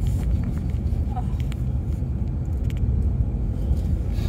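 A car drives down Portland Street in downtown Dartmouth, Nova Scotia, after Hurricane Fiona, giving a steady low road rumble and engine drone from inside the vehicle.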